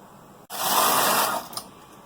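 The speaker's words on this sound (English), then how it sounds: "it makes it a little bit easier on the carriage to knit that first row that has 2 sets of stitches on it." A single-bed knitting machine carriage sweeps across once, a smooth mechanical whir lasting about a second, loud and close, ending with a small click.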